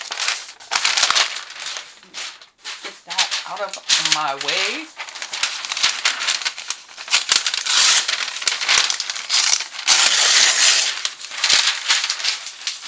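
Newspaper pages being crumpled and crinkled by hand for a collage, close and loud with continuous rustling and crackling, while someone speaks briefly.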